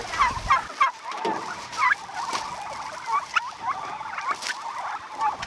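Turkeys on a farm, kept outdoors for hardening off before pasture, give repeated gobbling and chattering calls in irregular bursts at moderate distance, with faint rustling between the calls and no talking.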